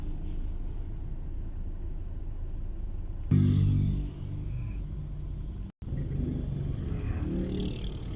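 A tricycle, a motorcycle with a sidecar, cuts through traffic with a steady engine rumble over road noise, a louder pass around the middle and a brief dropout before the drone resumes. No one speaks.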